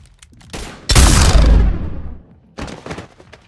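Gunfire in Mass Effect 3 rings out as a sudden loud burst of shots that rumbles and decays over about a second, followed by a few quieter sharp reports and scattered thuds afterward.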